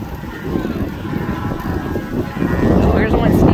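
Strong wind buffets the microphone outdoors beside the Texas Colorado River at Matagorda during a cattle drive, a steady rumbling roar that grows heavier toward the end, with no talk.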